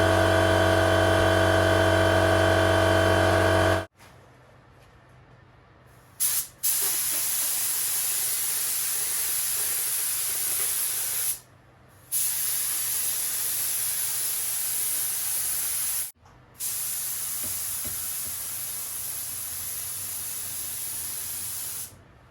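A compressor hums steadily, then a paint spray gun hisses in long continuous bursts painting a motorcycle gas tank, stopping briefly twice before resuming, loud and close.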